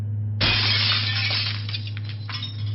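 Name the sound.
glass shattering, sliding glass door smashed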